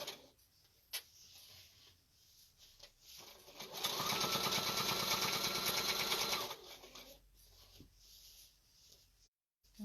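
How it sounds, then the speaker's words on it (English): A Bernina sewing machine runs in a fast, steady stitching burst for a few seconds, with quieter handling sounds before and after. "if you're trying to figure out what kind of sewing machine to buy, gotta love a Bernina"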